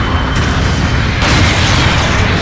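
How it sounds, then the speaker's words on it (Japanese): Artillery bombardment in the mecha video game Gundam Battle Operation 2, a dense, continuous rumble of booming explosions with a sharper burst about halfway through, loud and without talk. "後方部隊からの砲撃が始まった"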